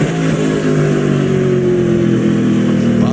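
SRX race cars accelerating around Stafford Speedway's short oval, a loud, continuous engine roar with rising pitch as the pack passes close, no talk over it.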